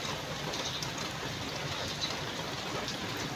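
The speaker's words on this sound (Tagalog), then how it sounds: "Ang lakas ng ulan." Heavy rain pouring down steadily, a dense, even hiss of drops striking surfaces nearby with no breaks and no voices.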